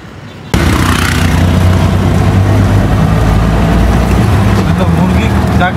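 Auto rickshaw ride in Sri Lanka, with a loud steady engine drone and road rumble starting abruptly after a quiet moment and holding close throughout, with voices mixed in.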